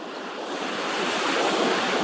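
Surf breaking at the water's edge on a beach forms a steady, full-bodied wash of noise that swells slightly toward the end. Wind buffets the microphone throughout, and no voices can be heard.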